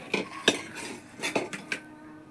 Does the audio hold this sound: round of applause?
no